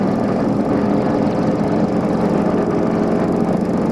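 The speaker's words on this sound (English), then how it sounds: "Run-up. Left engine." Left engine of a light twin-engine airplane at a grass airstrip during pre-flight run-up, a steady loud droning hum that holds even throughout with no talk.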